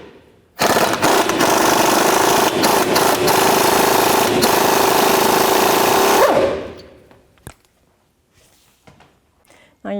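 An impact gun spins the tie rod end nut off a 1997-04 Dodge Dakota with a 21mm socket, one loud continuous rattling burst of about six seconds that cuts off, followed by faint clicks and handling noises.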